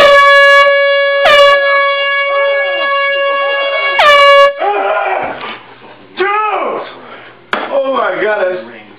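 Air horn blasts set off as a prank: a loud held blast, a second short burst and another long blast, followed by startled shouting and excited voices.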